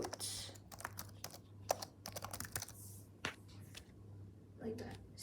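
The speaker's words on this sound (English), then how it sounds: "the next thing you want to do is you want to type CD" A command typed on a computer keyboard in an Ubuntu Linux terminal, close bursts of quick key clicks with short pauses between them, under a steady low hum, while a voice speaks over them.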